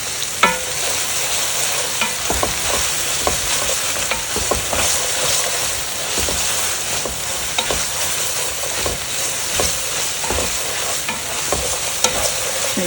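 Tomato paste frying in a pan for a shrimp tajine, with a steady close sizzle and repeated scraping stirs of a utensil against the pan, irregular strokes running throughout with no talk.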